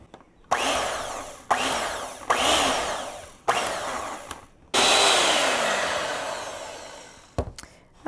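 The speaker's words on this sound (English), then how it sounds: "So sometimes I do this just with my little hand mixer." A small electric hand mixer beats cream cheese and sugar in loud whirring bursts that repeatedly start and stop. The longest run near the end lasts about three seconds, followed by brief clicks and short blips, with no talking.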